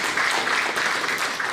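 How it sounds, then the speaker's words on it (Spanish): Sustained clapping from a church congregation fills the moment, a steady even wash of hands at moderate loudness with no voices over it. "démosle un aplauso a toda esa familia que Dios nos ha regalado"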